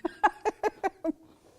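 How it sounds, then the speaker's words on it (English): Crisp crunches from someone biting into and chewing a chocolate caramel coconut cookie, six sharp bites in quick, even succession, close and loud, then fading to quiet. "you want to hear the crunching?"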